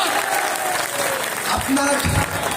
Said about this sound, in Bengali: করতালির মাধ্যমে তাদেরকে স্বাগত জানান।